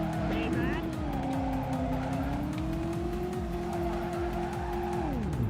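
A car in the Driver video game skids and squeals its tires through corners on a lap, a steady loud engine drone with a long sustained tire screech that drops away at the end.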